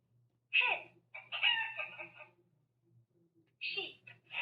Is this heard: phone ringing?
no